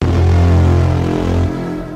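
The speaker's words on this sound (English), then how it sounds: "Take a few gritty FM sounds like this one" A gritty FM synthesizer tone plays loud and buzzy with a strong low fundamental and rough harmonics, holding steady for about a second and a half before fading, with no talking.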